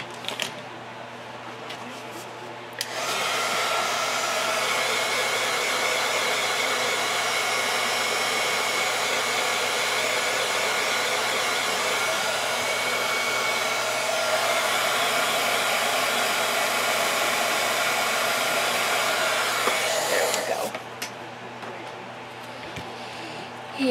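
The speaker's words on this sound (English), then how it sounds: "I might actually go ahead and just zap them with a heat gun." A heat gun blows on embossed Christmas craft tags with a steady, close whooshing roar. It starts after about 3 seconds, runs evenly for about 18 seconds, then cuts off, leaving quiet room sound.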